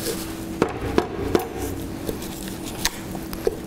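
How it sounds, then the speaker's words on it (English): A knife cores an apple for apple pie, giving a series of sharp, evenly spaced taps and cuts against a board at close range over a steady background hum. "then we're going to core our apple"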